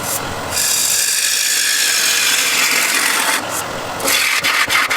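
Abrasive sanding on the rim of a wooden turned bowl, a continuous close hissing rub that holds steady for several seconds, dips briefly, then resumes with a few light knocks near the end.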